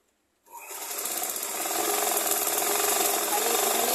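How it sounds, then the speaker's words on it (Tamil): A sewing machine runs steadily while stitching an umbrella cover, starting after a brief silence and continuing as a close, loud, continuous mechanical whir with a fast stitching rhythm. "தையல் போட்டுக்கோங்க."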